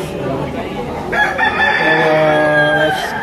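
At a busy poultry market, a rooster crows loudly over a steady crowd murmur, one drawn-out harmonic crow rising partway through and holding until the end.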